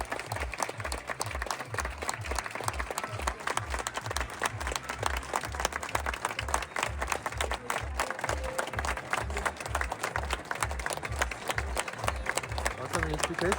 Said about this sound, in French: Si on peut faire une petite minute d'applaudissement